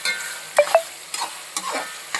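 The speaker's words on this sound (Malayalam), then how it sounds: "ഇളക്കി കൊടുത്തുകൊണ്ടിരിക്കുക." Assamese-style pork curry is stirred in a hot pan, with a handful of sharp spoon clicks and scrapes over a faint sizzle, close and brief.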